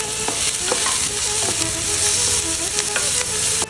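Chopped onion and green chillies sauté in hot oil for tuna cutlets, a steady loud sizzle with repeated scraping stirs throughout, no voices.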